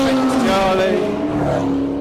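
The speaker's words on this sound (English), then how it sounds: "Speciale chased by a 675LT." A Ferrari Speciale chased by a McLaren 675LT races past at speed on the Goodwood course, engines roaring loudly with shifting pitch as the two cars sweep by in quick succession.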